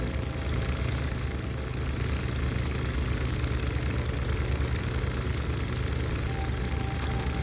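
A boat engine in The Sinking City video game hums and idles in a steady, dense low drone that runs unbroken throughout, with no talk over it.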